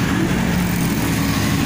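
Congested traffic on the Pantura road in Karawang makes a loud, steady rumble of car engines and road noise that fills the whole stretch, close by and without talk.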